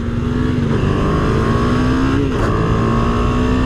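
KTM Duke 250 engine pulling hard under throttle in chaotic city traffic, a loud sustained buzzing drone that rises in pitch, drops briefly, then climbs again with no talk.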